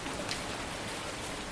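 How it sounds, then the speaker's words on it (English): Steady rain falls in the video game Dagon, a soft continuous hiss of drops on surfaces running without a break, with no talking. "I love the rain sound."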